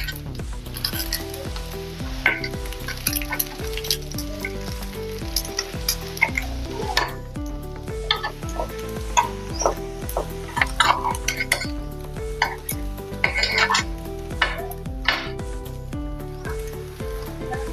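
A semolina breakfast snack sizzling in a pan as it is flipped, steady frying under repeated metallic scrapes and clinks of a spatula against the pan, close and continuous without talk.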